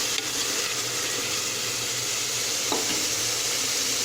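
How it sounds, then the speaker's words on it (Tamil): Tomatoes sauté in sesame oil in a pan for a Chettinad crab pepper rasam, giving a steady, close sizzle with faint stirring and a brief scrape near the end, with no talk. "தக்காளி கொஞ்சம் நல்லா வதங்கணும்."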